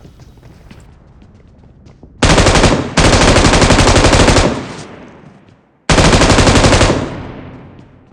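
Gunfire in a shooter video game, two loud close bursts of rapid automatic fire, the first running about two seconds with a brief break, the second shorter, each trailing off into a fading echo.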